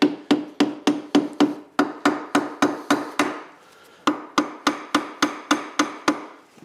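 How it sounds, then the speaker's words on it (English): A 1959 BSA Gold Star DBD34 motorcycle casing is tapped during teardown to break the seal, giving a steady run of sharp metallic knocks, about three per second, with a brief pause near 3.5 seconds. "We can tap here, but don't put too much pressure on because you don't want to crack your casing."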